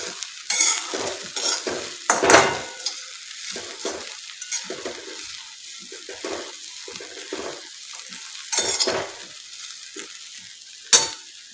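Roti churma with chopped coriander being stirred in a pan, repeated close scraping and tossing strokes in irregular bursts, with a soft sizzle between them and no talk.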